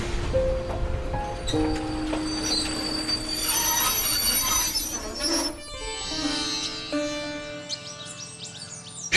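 A train rolls along with rumbling wheels and high metallic squeals, some birds chirping faintly in the background.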